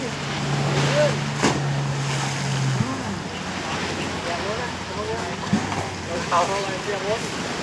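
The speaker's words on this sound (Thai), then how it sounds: "คลื่นสูงจังกระทบฝั่ง" High sea waves crash on a beach at a hidden cove in Pattaya, a steady surging wash with wind rush and faint voices in the background.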